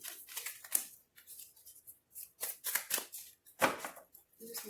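Tarot cards being shuffled by hand in a quiet room, soft papery riffles and slides arriving in uneven bursts, close and fairly faint.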